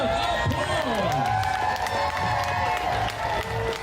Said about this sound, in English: Give these Bugs gymnasts a big round of applause.